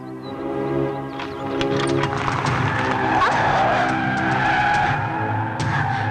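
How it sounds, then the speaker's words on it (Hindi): Tyres squeal and skid as a car turns sharply in a dubbed Hindi action film, a loud sustained screech over engine noise filling the whole stretch, with faint speech underneath. "गाड़ी क्यों मोड़ ली?"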